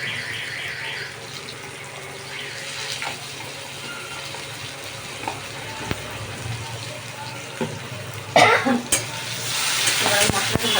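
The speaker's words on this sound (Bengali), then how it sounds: "এবার মশলাটা ভালো করে কষাবো" Ground paste of cumin, coriander, ginger and cinnamon with turmeric fries in a pan for a chhana kofta curry: a steady hiss with occasional stirring scrapes, then a louder clatter and rushing, water-like noise near the end.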